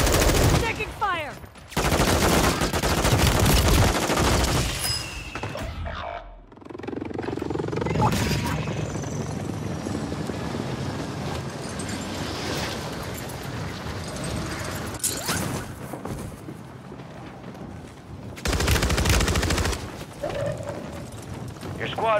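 Call of Duty gunfire: sharp, loud rapid bursts of automatic fire in short clusters, separated by quieter stretches of battlefield rumble and movement.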